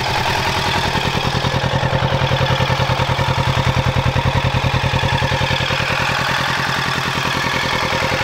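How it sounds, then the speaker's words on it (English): A Kawasaki Z650 motorcycle with an aftermarket exhaust idles steadily up close, a loud, throaty, rapid pulsing rumble that holds even throughout with no voices. "When it's idling, it sounds like you can hear the engine more than you can hear the actual exhaust."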